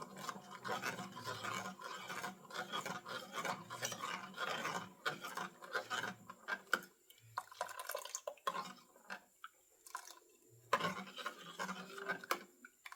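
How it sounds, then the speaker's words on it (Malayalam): Semolina being stirred into hot milk in a pot for Ramadan thari kanji: soft scraping and sloshing strokes with small clinks, close and quiet, in an uneven rhythm with brief pauses. "ഇനി അതിലേക്ക് റവ ഇട്ട് കൊടുക്കുകയാണ് ഇനി നന്നായി ഇളക്കി കൊടുക്കാം"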